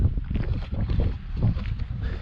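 Gusty wind buffeting the microphone outdoors at Smith Rock State Park near Bend, Oregon, a steady low rumble that swells and eases over a couple of seconds, with no voices.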